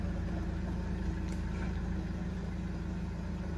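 Mahindra Scorpio S4 pickup engine running at idle just after starting, a steady low rumbling throb, close and continuous with no talk over it.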